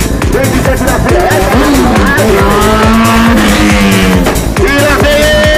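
Motorcycles revving hard while riders pull wheelies, loud continuous engine roar with rising and falling pitch sweeps as throttles open and close, close by and dominating throughout.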